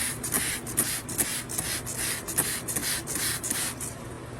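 A pressurized water spray hisses steadily over a cow's hoof, close and loud, pulsing slightly as the stream moves, then cuts off abruptly at the end.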